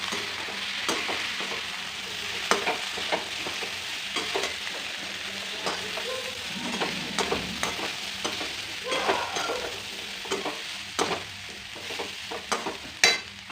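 Red chili goes into a sizzling pan of frying food and is stirred: a steady hiss of frying runs throughout while a spoon scrapes and clinks against the pan in irregular strokes, close and fairly loud, with no talking.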